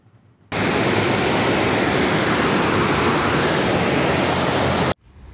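Storm floodwater rushes through city streets after a powerful downpour, a dense, continuous roar of water that starts abruptly, holds steady and loud for several seconds, then cuts off sharply.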